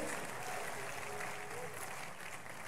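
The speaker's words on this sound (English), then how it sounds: "One more time, big clap for Jesus." A church congregation at a Faith Tabernacle testimony service clapping together, a faint, even, continuous patter that sounds distant and stays steady throughout.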